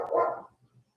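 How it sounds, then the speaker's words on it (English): A single dog bark, fairly close and loud, followed by a couple of faint trailing sounds and quiet, heard during a hatha yoga session. "like barking dogs"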